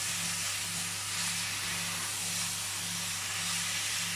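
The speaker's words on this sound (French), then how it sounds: "Et on laisse revenir la viande." Meat sizzles in a pan with garlic and onion, giving a steady, loud, even hiss over a low hum, continuous with no talking.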